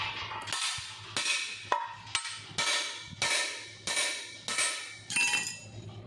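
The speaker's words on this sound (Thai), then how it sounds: "ตอนนี้เราก็ต้องตอก ตอกให้เกี่ยว ชุดนี้นะครับ ตัวล็อกคันสตาร์ทนะครับ" Someone hammers a lock part into the kick-start lever assembly of an old motorcycle being revived after long disuse: about ten sharp metallic strikes at a steady, deliberate pace, near and clear, with ringing clinks.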